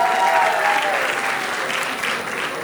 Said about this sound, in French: Est-ce qu'on peut applaudir très fort pour la grande délégation?